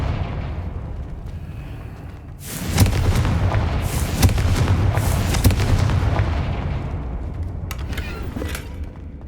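A Confringo fire spell in Hogwarts Legacy sets off a loud, deep booming blast that swells suddenly after a quiet start, with rumbling crackle and debris rattling before slowly fading.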